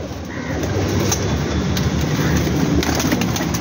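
Teddy pigeons cooing softly amid a dense, constant rumble of background noise, with no one speaking.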